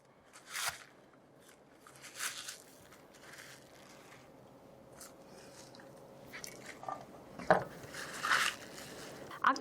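A knife cuts the large bulb ends of scallions in half on a cutting board for summer dongchimi: a few quiet, crisp crunching chops spaced unevenly, growing slightly louder and quicker toward the end.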